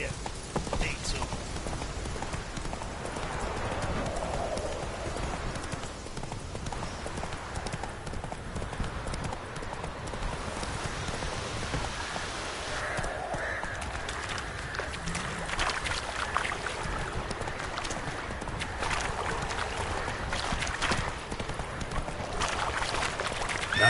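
Roach, the witcher's horse in The Witcher 3, gallops steadily with a rapid, rhythmic clip-clop of hooves that stays close and prominent, while voices talk intermittently over the running hoofbeats.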